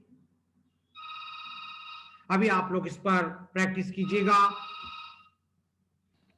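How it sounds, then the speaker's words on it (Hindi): A telephone rings with a steady electronic trilling tone for about a second before a voice starts speaking over it, the ringing continuing faintly under his talk. "फोन आ गया।"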